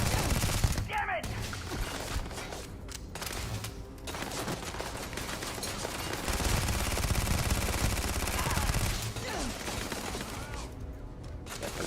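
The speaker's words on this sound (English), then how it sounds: "Definitely burning through some bullets here." Constant heavy gunfire in Starfield while fighting pirates: dense automatic bursts rattle almost unbroken for the whole stretch, loud and close, with brief gaps and overlapping shots.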